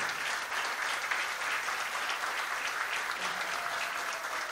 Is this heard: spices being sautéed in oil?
no